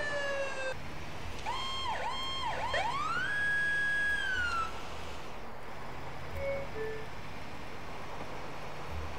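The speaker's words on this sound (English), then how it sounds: "there's gonna be a link to the siren as well if you like the siren" Fire truck siren in GTA IV with a firefighter mod: loud, close electronic wails sweeping up and down, then a long rising tone that holds and drops, over steady engine rumble.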